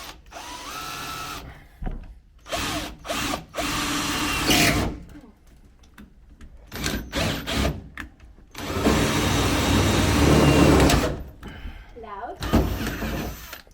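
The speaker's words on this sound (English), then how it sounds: "See how hard this is to drill through." Power drill boring a hole for a soft tonneau cover on a 2021 GWM Cannon ute, several loud whining bursts of varying length separated by pauses, with a person talking between the runs.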